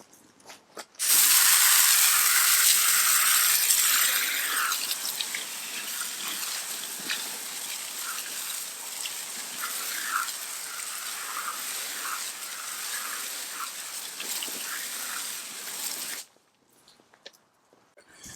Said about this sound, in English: Now we're going to hose off the power clean side.